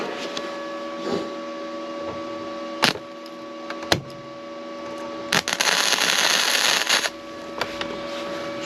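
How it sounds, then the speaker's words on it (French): Arc welding while tack-welding metal, with short sharp crackling bursts and a longer buzzing stretch of several seconds over a steady hum, close and fairly loud. "Voilà, prêt à souder. Il n'y a plus qu'à s'y mettre."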